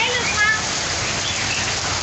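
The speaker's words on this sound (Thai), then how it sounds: "ฝนตกมาประมาณ ไม่ถึงครึ่งชั่วโมง ประมาณครึ่งชั่วโมง หนักทีเดียว" Heavy rain falls during a storm in Hat Yai, Thailand, a steady, close hiss of drops pattering on surfaces for the whole short stretch with no break.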